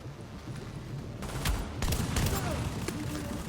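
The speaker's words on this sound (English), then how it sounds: "sawed-off shotgun at close range does just massive amounts of damage" Sawed-off shotgun blasts at close range in The Division video game, several sharp shots amid a steady rumble of combat noise and scattered gunfire, no talking.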